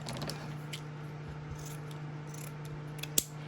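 Scissors snip through barrier fabric on a stuffed penguin toy in a few quiet, close cuts, with a sharper snip near the end over a faint steady hum.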